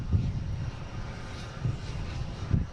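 An American Airlines Airbus A321 inbound from Charlotte to Boston Logan gives a steady, low engine rumble, fairly distant, with a few slightly louder swells.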